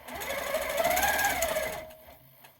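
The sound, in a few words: powerquilter 1650 quilting machine sewing along a ruler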